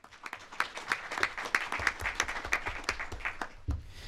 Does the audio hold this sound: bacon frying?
no